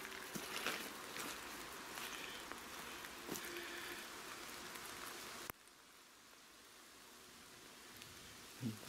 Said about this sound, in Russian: Дождь, дождь, дождь.